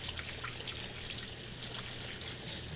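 Tap water runs steadily while hands are washed in a home kitchen during dango making. It is a continuous, even hiss with faint splashing and no voices.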